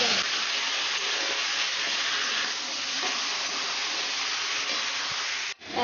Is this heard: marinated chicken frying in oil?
yes